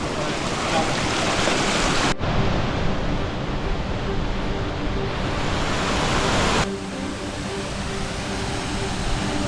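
A mountain river on the Tour du Mont Blanc flows with a loud, steady broadband rush, continuous for several seconds with abrupt level changes.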